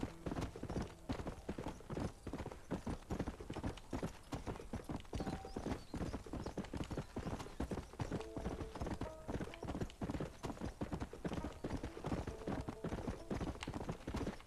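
Steady, rhythmic clip-clop of horse hooves in the video game Red Dead Redemption continues throughout, with an occasional faint whinny in the background.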